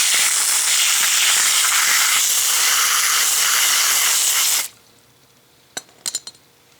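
Water sprays in a steady, loud hissing rush over a rust-stripped part from an abandoned 1966 Chevy Biscayne for about four and a half seconds, then cuts off abruptly, leaving quiet with a few sharp clicks and taps.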